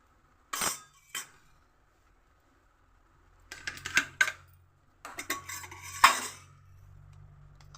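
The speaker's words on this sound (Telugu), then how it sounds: "ఇంకో స్టవ్ వెలిగించి ప్యాన్ పెట్టాను." A frying pan is set onto a lit kitchen gas stove while cooking an egg omelette curry, giving a few sharp metallic clanks and scrapes close by, with a low burner hum underneath and no talking.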